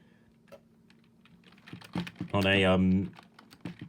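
Typing a song title into a computer keyboard: soft scattered key clicks, then a brief loud tonal burst of music or voice near the end, fairly close.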